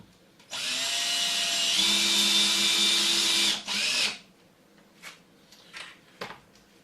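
Power drill driving screws into a wooden hardware cart, one long steady high whine for about three seconds then a short second burst, followed by faint clicks and handling noises, loud and close.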